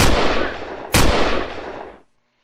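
Two loud rifle shots from a video game boom close up about a second apart, each followed by a long decaying echo that fades to silence.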